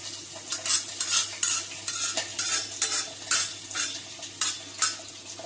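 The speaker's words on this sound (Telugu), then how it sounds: "వెల్లుల్లి, అల్లం ముక్కలు చక్కగా ఆయిల్లో ఫ్రై అవుతున్నాయి" Chopped garlic and ginger frying in hot oil, with steady sizzling crackle and repeated bursts of stirring and utensil scrapes against the pan. The sound is close and continuous, and no one speaks.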